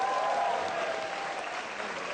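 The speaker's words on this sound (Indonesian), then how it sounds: "Give applause for Pak Ustadz Wijayanto." Studio audience applause on a television talk show, a dense, loud burst of many hands clapping together, sustained evenly with a faint cheer mixed in.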